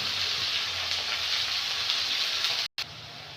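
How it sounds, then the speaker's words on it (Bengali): A masala paste of cumin powder, chili powder and turmeric sizzles steadily in hot oil while it is fried down for chicken curry. The frying hiss continues without a break, except for a very brief dropout near the end. No one speaks. "দিয়ে মশলাটা ভালো করে কষে নেব।"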